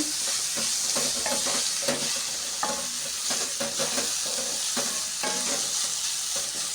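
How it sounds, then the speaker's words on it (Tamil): Onions and other ingredients sauté in a pan for traditional neer urundai, a continuous bright sizzle punctuated by repeated spatula stirs and scrapes at an uneven rhythm, close and fairly loud. "பாருங்கள் நல்லா வதங்கிட்டுருக்கு"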